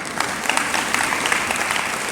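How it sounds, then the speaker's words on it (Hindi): Audience at a Jain spiritual discourse clapping steadily, a dense, even wash of many hands applauding at moderate loudness with no talk over it. "ताली तो बजाओ।"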